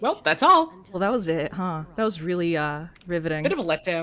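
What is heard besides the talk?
No everyday noises stand out.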